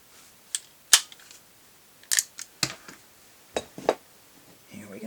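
Several sharp pops from a 40-year-old Crosman air rifle fired across a chronograph, sounding as distinct separate cracks spaced unevenly, with faint clicks and handling noise between them.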